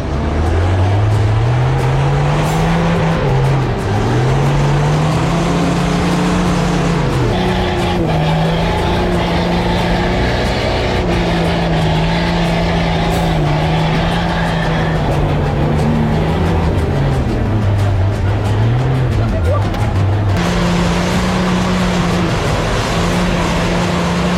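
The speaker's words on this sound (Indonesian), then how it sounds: "membuat ban mobil off-road sering slip dan terpleset di antara lumpur" An off-road car grinds along a slippery, muddy dirt road softened by rain, its engine droning loudly and rising and falling in pitch as it labours and its tyres slip, continuous throughout.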